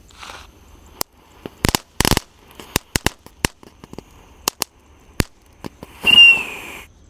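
A small wheeled "tank Thor" firecracker rolls and goes off, giving a series of sharp, loud cracks and pops at irregular intervals, followed by a brief rising whistling hiss near the end.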